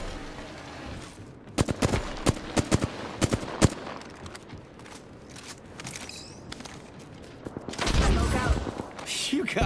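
Apex Legends gunfire comes as a series of sharp, separate shots in quick clusters, followed by a heavier, denser burst toward the end. A little background game noise sits between the volleys.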